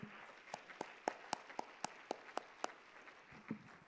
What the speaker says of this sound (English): Can we give a hand clap of gratitude from all over the world to our ladies?